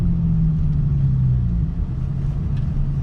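Lexus GS300 with a straight-pipe exhaust, a deep low rumble that rises briefly then drops off as fuel cut hits, close and steady for a few seconds.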